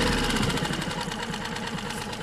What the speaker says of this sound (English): throw your throttle all the way down to low, and that will put the motor in an idle speed for you.